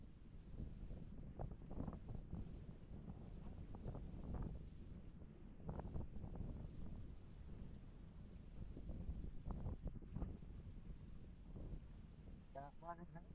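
Strong wind buffets an outdoor microphone in a steady low rumble throughout, with someone talking over it.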